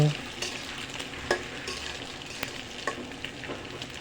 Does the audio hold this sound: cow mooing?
no